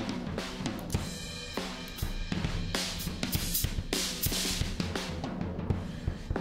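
Full music mix run through the free Airwindows Baxandall2 EQ plugin with its original broad tone curve, dense and steady with strong bass and bright highs, no voices.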